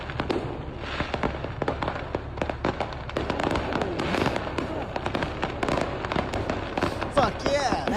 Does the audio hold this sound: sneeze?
no